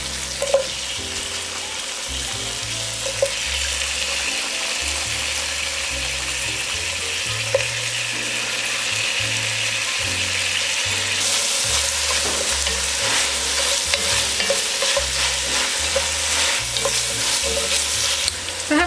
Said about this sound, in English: I'm just waiting for my onions to get translucent